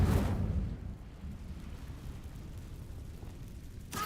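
The Incendio fire spell cast in Hogwarts Legacy bursts with a loud, deep whoosh that quickly fades into a low rumbling tail, ending in a brief sharp flare.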